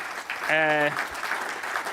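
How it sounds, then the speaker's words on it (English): Audience applause fills a hall during opening remarks at an event, a steady crackle of clapping throughout, with a brief sustained voiced tone rising over it near the start. "Je pense qu'on devrait leur donner une main d'applaudissement."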